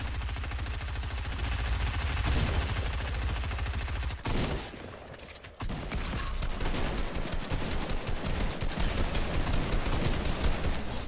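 Dense, continuous loud gunfire in a Fortnite match, with a shotgun among the weapons, filling nearly the whole stretch with a brief dip partway through, no voices heard.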